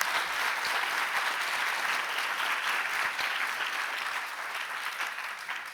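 Sustained applause from a crowd at a 9/11 ceremony, a dense, even wash of clapping that continues steadily and begins to fade slightly toward the end.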